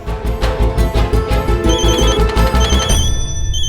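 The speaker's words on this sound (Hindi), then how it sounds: "किसका फोन है? जल्दी देखो।" A phone rings loudly with a repeating electronic ringtone that keeps going, tones cycling steadily, close and dominant with no voices.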